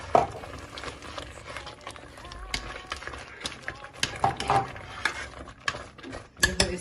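Dry bulgur poured and stirred into a pot of freshly boiled lentils, giving scattered rattling, scraping and clinking against the metal pot, loud and close with uneven bursts of activity.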